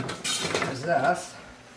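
Glass canning jars and metal utensils knocking and clinking together while pre-cooked bacon is packed into jars in a home kitchen, a short run of close, light clatter.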